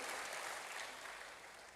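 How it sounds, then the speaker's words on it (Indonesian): A church congregation claps together in a soft, fairly distant wash of applause that fades slightly over a brief moment. "Berikan tepuk tangan hebat bagi Tuhan."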